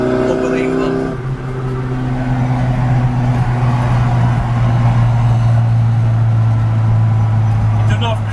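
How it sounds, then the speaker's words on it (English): A classic Mini Cooper S MK1 drones loudly along a motorway, its engine holding a steady tone that rises slightly as it pulls, with a voice speaking over it at the start. "just the sound, the smell of this car. She's certainly loud"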